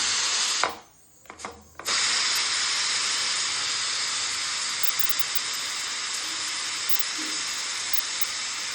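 A pressure cooker lets off steam while chicken cooks, a loud steady hiss that fills the air, briefly cut off near the start before it resumes and holds evenly to the end.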